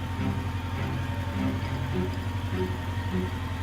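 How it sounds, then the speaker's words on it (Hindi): Tractor engine running rough, heard as a steady low mechanical drone with an uneven, pulsing throb, loud and continuous throughout with no voices. "तभी अचानक ट्रैक्टर की आवाज एकदम से बदल गई"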